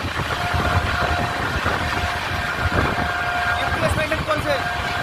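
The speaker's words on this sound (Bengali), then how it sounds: "এইবার ট্রেনের গতি নেমে আসছে" Aboard the Kolkata–Gorakhpur Purbanchal Express as it slows, a loud steady rumble of wheels and carriage with a faint tonal whine, and a voice talking over it.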